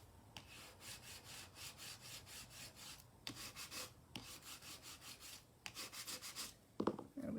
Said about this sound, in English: And I'm going to give that a little burnish.